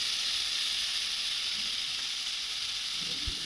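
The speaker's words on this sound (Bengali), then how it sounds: "এরপরে আমি এই মশলাটা দিয়ে দেবো।" Spices sizzling in hot oil in a pan during home cooking, a steady bright hiss running continuously with no talk over it.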